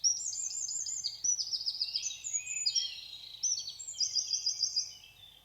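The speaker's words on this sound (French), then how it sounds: "le son plus aigu, c'est un troglodyte" A Eurasian wren sings a high-pitched, rapid series of trills and twittering runs, fairly close and clear over quiet surroundings, for several seconds.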